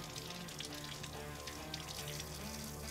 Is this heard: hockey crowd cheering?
no